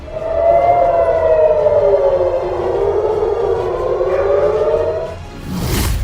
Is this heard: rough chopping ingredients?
no